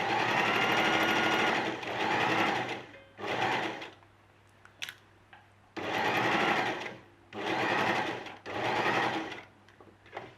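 A basic sewing machine runs in several bursts, stitching a narrow hem on a fabric square, its rapid needle chatter stopping and starting between short pauses, close and steady.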